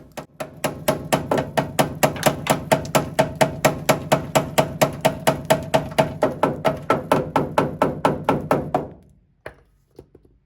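Rapid, regular metallic hammer taps on the rear cab panel of a 1964 Chevrolet C10 pickup, dozens in an even rhythm for several seconds, close and fairly loud, then stopping with a couple of faint knocks.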